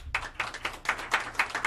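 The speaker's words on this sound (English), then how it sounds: "give me a round of applause for Mr. McCall here." A small talk-show audience claps for an arriving guest, a thin round of distinct, rhythmic claps in quick succession, fairly close and moderately loud, with no voices over it.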